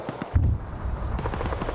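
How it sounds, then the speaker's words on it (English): A muffled explosion booms once in a first-person PvP video game match, a short heavy thump followed by a rumbling, noisy tail and distant crackle. "We hear another explosion."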